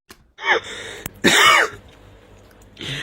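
One person clears their throat and coughs in a few short, separate bursts with quiet pauses between them. The sound is close and fairly loud in a quiet room.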